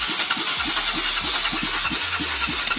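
An electric starter motor cranks a motorcycle engine, making a fast, steady run of rhythmic pulses over a constant high whine for about three seconds at close range.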